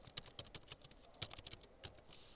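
Quick, close computer keyboard typing, with a burst of light, irregular key clicks tapping out in rapid succession at a soft level.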